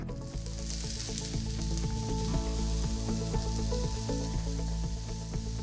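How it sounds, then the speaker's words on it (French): Onions sizzling in a drizzle of olive oil in a pan, a steady crackling fry with a bright, hissing top that holds evenly throughout, close and continuous with no talking over it. "On commence par un filet d'huile d'olive et on rajoute directement les oignons"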